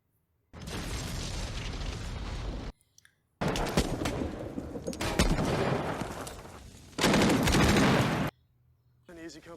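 Gunfire in a Saving Private Ryan battle scene: loud dense bursts of shooting and booms come in long blocks broken by sudden silences, with voices shouting under the noise.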